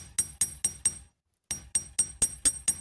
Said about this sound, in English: Hammer that flat, like we did the ends of the brooch.